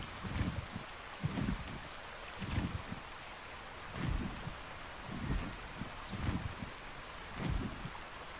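Steady hiss of rain with heavier low rumbling bursts recurring every second or so, like gusts or distant thunder, no voices.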